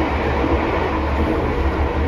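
The Taksaka express train runs at high speed, heard from inside as a loud, dense rumble with a low rhythmic rolling pulse from the wheels.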